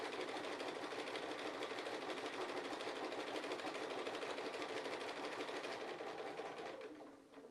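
A sewing machine stitches a line with polyester thread, a rapid even whirring chatter held steady and close for about seven seconds before slowing to a stop.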